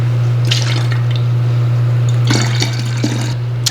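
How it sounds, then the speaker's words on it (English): Liquid is poured into a container of orange peels in a home kitchen, with two short bursts of splashing pouring over a constant low electrical hum, fairly close and with no talk. "So let me pour this in and we'll fill this up with new orange peels."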